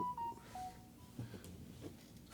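A mobile phone chimes with a text message notification during a Knicks playoff post-game press conference, a few short, quiet electronic tones heard in a hushed room.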